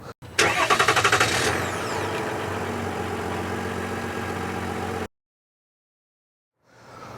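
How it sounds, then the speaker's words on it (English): A 2024 Chevy Silverado 1500 ZR2 Duramax diesel pickup engine cold-starts: it cranks briefly, catches and settles into a steady, fairly quiet idle close by, then cuts off abruptly, followed by silence and faint noise. "you just heard the cold start on the Duramax diesel in here"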